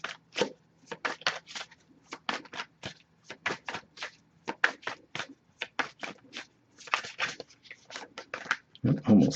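An oracle card deck is shuffled by hand in rapid, crisp bursts of riffling and sliding cards, repeated in an irregular rhythm throughout, close and fairly loud, with a heavier rustle at the end.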